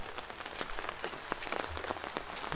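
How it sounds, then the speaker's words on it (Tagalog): Heavy rain falls steadily during a typhoon in a cornfield, a dense patter of drops striking surfaces, fairly faint and continuous with no voices. "lumakas palalo yung ulan"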